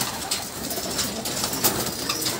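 Pigeons coo and rustle in a loft at feeding time, soft overlapping calls against a steady close background hiss with no talking.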